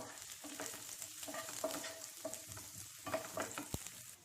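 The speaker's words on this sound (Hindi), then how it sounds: "थोड़े से काजू 15 से 20 पीसेस, इन्हें सॉटे कर लेते हैं" Oil sizzles and crackles steadily in a pan as cashews sauté, with occasional stirring scrapes and a sharp tap near the end; no talking.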